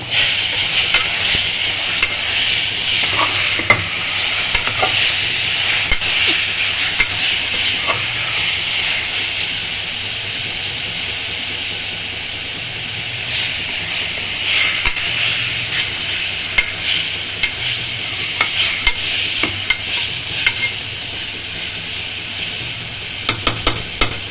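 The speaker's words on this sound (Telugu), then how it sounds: "మొత్తం వేసేసి సేపు వేగనివ్వాలి" Mutton keema frying in a pan with ginger-garlic paste, a steady loud sizzle and hiss running throughout with repeated scraping clicks of a spoon stirring the meat.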